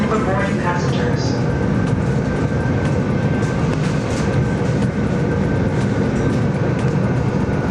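Train rolling along rails with a steady, loud rumble and rhythmic clatter of wheels, heard from on board, with faint talk mixed in.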